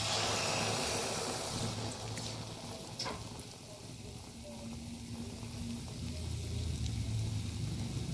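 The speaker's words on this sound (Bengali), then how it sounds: "এভাবে পরপর আমি সবগুলো ভেজে নেব" Malpua batter of semolina and flour fries in a pan, a steady hiss and crackle of oil that eases slightly in the middle and swells again, with faint background hum.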